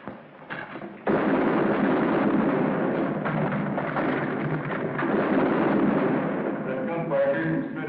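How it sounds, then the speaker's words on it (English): Battle gunfire in a 1951 Civil War film, a sustained loud barrage of bursts and booms, continuous and dense after a brief quieter opening, with voices mixed in. "That gunfire came from straight ahead."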